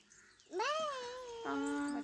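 A human voice imitates a cat's meow, two drawn-out rising-and-falling mews, close and clear, alone in a quiet room.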